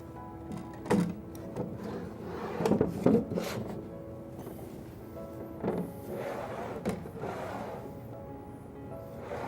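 A wooden drawer slid back onto cabinet drawer slides, with a few wooden knocks and a rolling, rumbling slide followed by quieter shuffling and bumps, close by and without speech.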